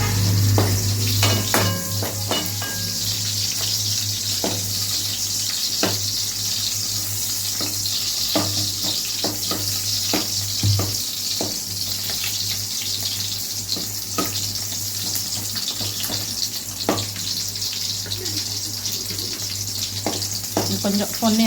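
Fenugreek and shallots sautéing in oil for a fish curry, a steady close sizzle and crackle with occasional stirring clinks against the pan and a faint low hum underneath, no speech.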